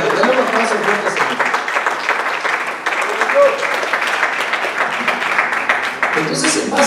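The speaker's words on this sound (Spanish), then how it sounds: "Denle un aplauso fuerte, Señor." A church congregation claps together in a steady, dense burst of applause lasting several seconds, with a voice and some tonal sound running underneath.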